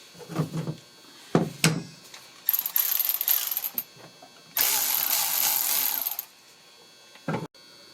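Ratchet wrench loosening bolts near the battery of a 2010 Kia Soul, short bursts of rapid clicking and metallic rattles separated by pauses, close and fairly loud, no talking.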